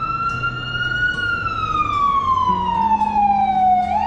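A loud wailing fire truck siren sweeps slowly down in pitch over steady traffic rumble, ending with a quick upward yelp.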